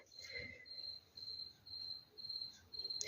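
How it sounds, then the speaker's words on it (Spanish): Crickets chirp outdoors on a cold April night, a steady high-pitched trill repeating in short pulsed bursts, faint and distant against a quiet background with no talk. "como si hubieran grillos."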